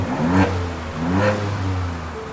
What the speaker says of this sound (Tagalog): That's the HKX exhaust. Okay, bobomba ko.